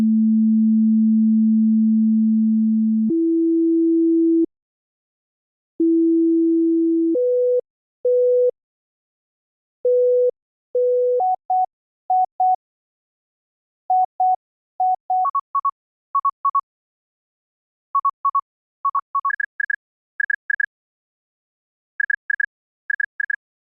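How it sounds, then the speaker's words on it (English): Pure sine tones sonify the Cantor set fractal, starting with one long low tone, then splitting into ever shorter, more numerous beeps that step higher in pitch at each level, clean and isolated against silence. "Let's sonify this process with a sine wave playing whenever there is a line and increasing in frequency at each subsequent level."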